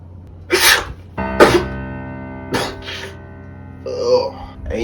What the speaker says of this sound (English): Stop sneezing in my shit.